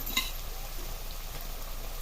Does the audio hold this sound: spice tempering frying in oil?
yes